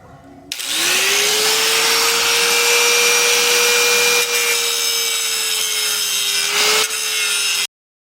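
A 4-inch disc grinder clearancing a steel suspension control arm, a loud sustained high whine with harsh grinding that runs steadily for several seconds, then stops abruptly.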